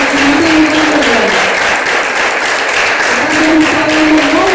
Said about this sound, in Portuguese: Batendo palmas no nome do Senhor.